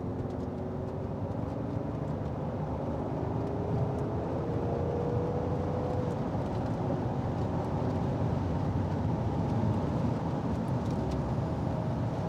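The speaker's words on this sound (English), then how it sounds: "We'll show you how it cruises, how it accelerates through all 5 gears." A 2008 Mercedes-Benz S65 AMG with its V12 cruises along a farm road and pulls up through all five gears, giving a steady, subdued engine and road rumble with rising tones under faint wind.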